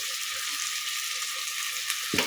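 Chili powder hitting hot oil in a pan while making biryani gives a steady, close, bright sizzle throughout, ending in a brief stir or scrape.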